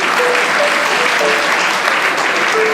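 Steady applause from a crowd, dense and continuous clapping for a few seconds.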